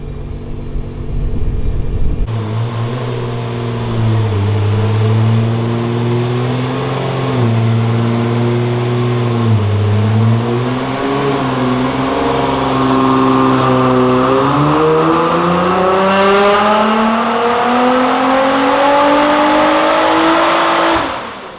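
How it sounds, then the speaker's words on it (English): A Nissan R35 GT-R with an Armytrix exhaust roars loudly and steadily on a dyno, its valves open, the exhaust note rising and wavering as the revs climb and hold, with no talking over it. "This is pretty loud. Those valves open up."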